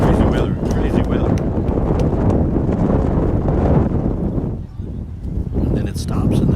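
Strong wind gusts buffet the microphone at an outdoor high school girls' ball game, a rough, roaring rumble that briefly dips and then surges again.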